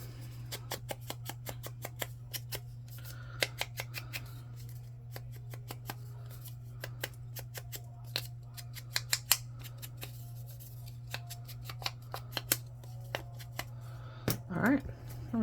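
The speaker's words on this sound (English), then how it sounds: "line up those two marks, and cut the paper" Scissors snipping through paper while assembling a junk journal envelope fold-out, a string of sharp, close, crisp clicks and cuts over a low steady hum, with a faint rustle near the end.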